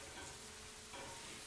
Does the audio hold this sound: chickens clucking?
no